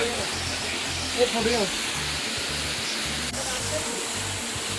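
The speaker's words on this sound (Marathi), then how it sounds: "हा धबधबा" A steady rushing roar of a monsoon waterfall near Lonavala fills the background, with people talking quietly over it.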